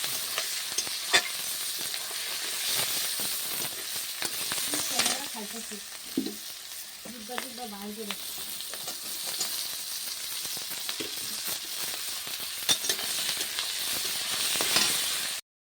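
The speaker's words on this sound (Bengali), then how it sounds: "পেঁয়াজগুলো ভাজা হয়ে গেছে।" Onions frying in a pan for a home-style chicken and potato curry, a continuous close sizzle with occasional scraping stirs, steady throughout and with no voices.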